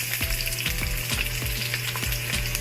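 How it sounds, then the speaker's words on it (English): Scallions (onions) frying in about two tablespoons of extra virgin olive oil for curry shrimp fried rice, a steady close sizzle punctuated by regular stirring scrapes roughly every half second, with no voices. "extra virgin olive oil in there, maybe about two tablespoonfuls, and then I'm going to go ahead and put my scallions"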